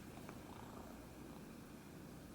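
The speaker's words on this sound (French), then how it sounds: "Et tu ronronnes fort, toi, ça n'a aucun sens." A cat purrs loudly and close, a soft continuous rumbling hum steady through the whole stretch with no talk.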